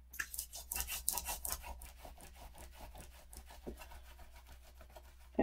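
Paper being burnished onto a page in a red Christmas scrapbook mini album: quick rhythmic dry rubbing strokes, close and soft, repeating steadily for several seconds.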